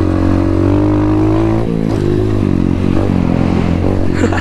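Dirt bike engine at a mud bash event, loud and steady throughout with a throaty low drone and shifting pitch as the throttle changes, close by.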